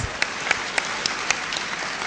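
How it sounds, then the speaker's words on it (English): A conference audience at a plenary session gives a round of applause, a continuous soft patter of clapping with a few sharper claps popping out at regular intervals. "Please give him another round of applause"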